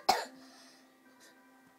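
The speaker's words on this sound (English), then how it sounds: "sorry guys, I have a cough." A single sharp cough, then a quiet pause with a faint hum, and another cough bursts out at the very end.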